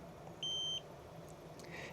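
A single steady electronic beep from a heated mosquito bite relief device, lasting about a third of a second, clear over faint background hum.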